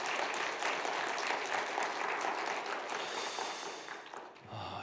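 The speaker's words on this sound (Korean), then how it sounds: "우리 목사님께 힘내시라고 기도하겠다고 한번 박수하겠습니다" A church congregation claps for their pastor during a Sunday worship service, a dense, sustained round of applause that fills the room and fades out near the end.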